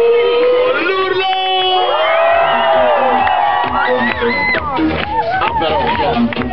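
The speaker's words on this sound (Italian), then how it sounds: "tra un po' sentiremo il vero urlo di Torre Rinalda, l'urlo più forte che riuscite a fare" Holiday-resort crowd at Torre Rinalda shouting and whooping at full volume during an animation-team show, a loud sustained roar of many voices with rising cheers and yells throughout.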